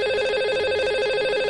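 An outgoing phone call rings on a live radio show, a steady electronic warbling ring tone, continuous and fairly loud with no talk over it.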